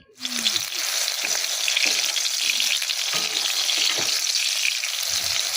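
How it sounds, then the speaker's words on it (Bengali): Whole flat beans fry in a pan with a loud, dense sizzle that starts abruptly and holds steady, with soft low bumps as the pieces shift, close and without talk. "সিমগুলো দেখো ভাজা বসিয়েছি ভাজা হচ্ছে"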